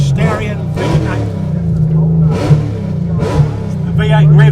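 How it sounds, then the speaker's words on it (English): A Mitsubishi Starion V8 rally car revs on the start line at a forest rally sprint, its engine rising in repeated bursts under a commentator's voice. "The V8 revs up on the start line."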